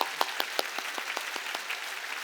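Scattered, fairly light applause from a church congregation during a Korean Thanksgiving Sunday worship service, a run of individual claps that thins out toward the end.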